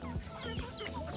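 A chicken clucks in short, quick bursts close by, with soft chirpy calls over a steady low background.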